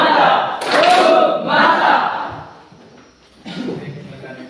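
A group of teachers in a coaching workshop perform the 'tepuk bum mantap' clap chant together, loud shouted voices and hand claps in a dense burst, a brief lull, then a quieter second burst.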